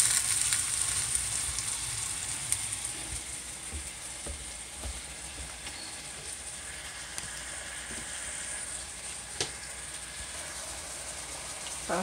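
Already-fried fish steaming and sizzling in a pot for brown stew fish, a steady close frying hiss with faint crackles that continues throughout, with no talking.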